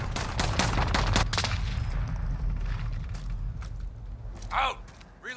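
Rapid automatic gunfire in Call of Duty: Modern Warfare, a dense string of loud close shots at the start, fading into rumbling ambience with a few later bursts while voices call out over the battle.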